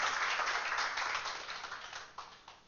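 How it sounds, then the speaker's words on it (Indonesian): A church congregation gives sustained applause, dense and steady clapping that slowly fades over a couple of seconds, with no talk over it. "Tepuk tangan yang luar biasa bagi Allah kita."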